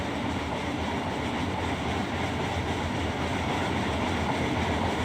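An intermodal freight train pulling away, a dense continuous rumble of rolling wheels and rail noise, loud and steady throughout with no talking.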